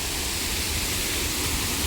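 Malaysian waterfall pouring steadily at Sungai Salang temple park, a dense continuous rush of falling water heard close up with no talk over it.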